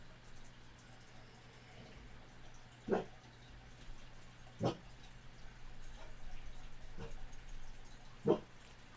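Dogs indoors give a few short, isolated yelps or whimpers at spaced intervals over a quiet background hum.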